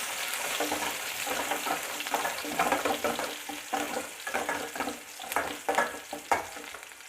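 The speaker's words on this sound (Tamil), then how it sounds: "வெங்காயத்தை சேர்த்து நல்லா வதக்கிக்கிடலாம்" Onions sautéing in a pan for an eggplant and drumstick sambar, a steady sizzle with repeated scraping stirs that swell and fade across the clip, close and fairly loud with no talking.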